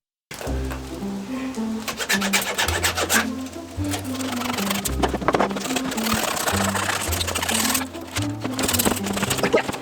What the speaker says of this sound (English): Vinny B has way too much fun just sawing and removing a windshield